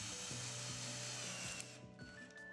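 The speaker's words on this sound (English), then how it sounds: "Now we screw and fix pilot holes and 2-inch 10s through to our stud work." A power drill drives pilot holes and screws through skirting support blocks into timber stud work, a steady close whirring with brief changes in pitch that ends in a quieter tail.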